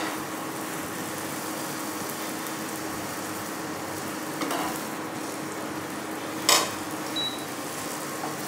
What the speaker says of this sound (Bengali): এটাও গোল্ডেন কালার করে ভেজে নেব।